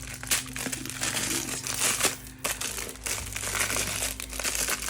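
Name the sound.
crinkling roll of rice paper being handled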